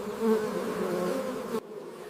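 Steady, dense buzzing of many honeybees around the hives at a large honey-producing operation, close and continuous before cutting off abruptly near the end.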